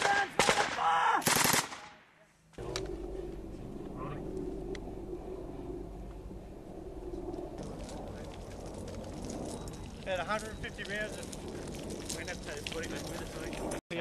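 Loud bursts of machine gun fire ring out during a firefight in Afghanistan, a sharp dense rattle at the start, then a brief drop and a long stretch of rumbling engine noise with shouted voices over it.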